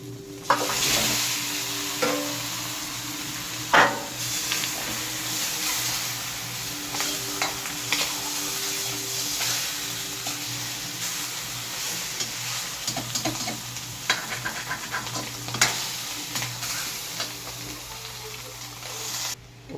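Softened pork pata meat for asado fries in a pan and is stirred, giving a steady close sizzle with scraping utensil strokes and occasional clatters, no talking.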